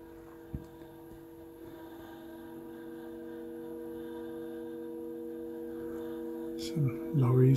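A small model train motor hums steadily with a tonal whine, rising slightly toward the end where a faint rattle and clatter join in.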